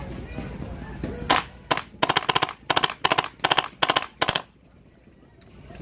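A full-auto MCS Hurricane magfed paintball marker fires through a magazine in several rapid bursts of sharp, close popping, separated by short pauses, over faint outdoor background noise.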